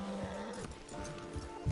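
A horse whinnies in Red Dead Redemption 2, a close, clear neigh followed by snorts and faint hoof movement.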